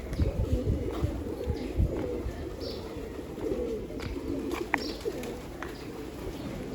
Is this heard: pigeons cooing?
yes